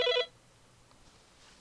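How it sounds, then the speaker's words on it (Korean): A telephone rings with an incoming call during a Java programming lecture: one short, bright electronic ring burst at the start, then near silence. "전화가 와서요"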